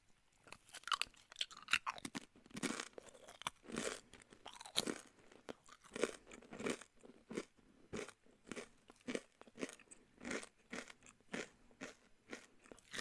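Crackers are crunched and chewed close to the microphone in steady, crisp bites, one after another, with no talking, in a quiet close-up eating setting.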